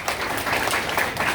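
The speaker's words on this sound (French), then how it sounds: "on nous applaudit le Seigneur" A church congregation at a Nazarene service applauding together, a dense and fairly loud wash of clapping with no clear break, heard close in a large room.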